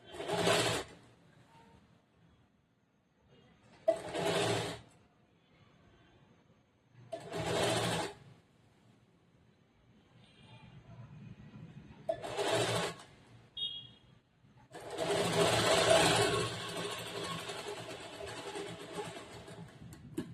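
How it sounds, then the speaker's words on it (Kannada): A sewing machine stitches a churidar top in short runs: four brief whirring bursts separated by quiet pauses, then a longer steady run near the end, close and fairly quiet. "ಆ ತರ ಸ್ವಲ್ಪ ಸ್ವಲ್ಪನೇ ಸ್ಟಿಚ್ ಮಾಡ್ತಾ ಜೋಡಿಸ್ತಾ ಸ್ಟಿಚ್ ಮಾಡ್ಬೇಕು"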